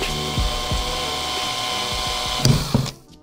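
A drill grinds steadily into the metal of a Vittorazi Moster Plus paramotor engine up close, with periodic clunks and scraping jolts, then stops near the end.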